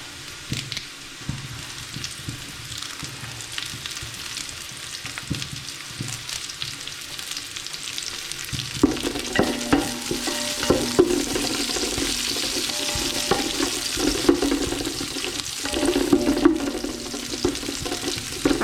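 Onions fry in a pan, a soft sizzle that swells into a louder, busier crackle about halfway through, with stirring scrapes and no voices.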